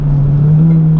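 Honda Civic EK9 Type R engine revving hard, a loud, close, sustained high-pitched engine tone held steadily through a brief burst.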